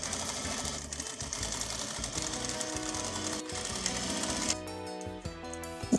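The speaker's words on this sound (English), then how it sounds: "we're just sewing this down while opening up the seam." A sewing machine runs steadily while stitching internal bone channels on a corset, a continuous close mechanical whir that shifts slightly in pitch near the end.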